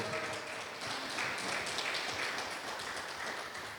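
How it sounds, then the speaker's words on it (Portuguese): A church congregation claps together in a steady, moderately distant wash of applause that holds evenly throughout with no voices clearly over it. "Isso, pode aplaudir mesmo."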